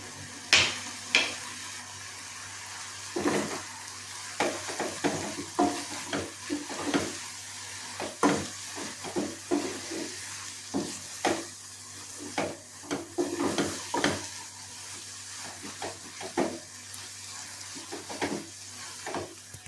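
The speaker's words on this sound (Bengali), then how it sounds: "এখানে সবজিগুলো একটু ফ্রাই হচ্ছে।" Vegetables fry in a pan, giving a steady sizzle broken by frequent scraping and clattering stirs of a utensil against the pan, close and fairly loud with no talking.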